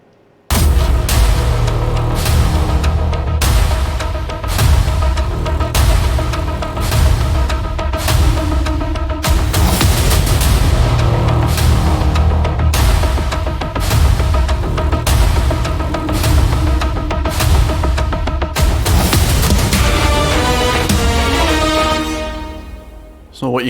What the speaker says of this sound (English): Let's have a look and listen to the percussion and the hits here.